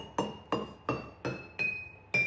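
Glass jars are struck one after another with a plastic object, six bright clinks at a steady pace, each ringing with a clear sustained tone that rises slightly in pitch across the sequence.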